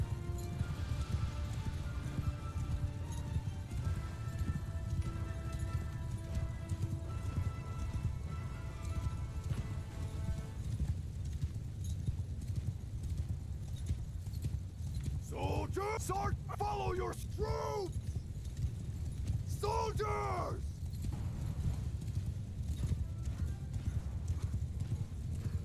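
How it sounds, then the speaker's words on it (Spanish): Horses gallop in the medieval battle game Mount & Blade II: Bannerlord, their hooves drumming a steady, dense clip-clop throughout, with a few whinnies breaking through midway. "Vamos a ir a por esos caballos."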